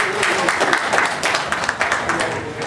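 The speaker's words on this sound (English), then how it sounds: "can we give him a round of applause?" An audience at a land law professional development session claps steadily, dense applause filling the room with no letup.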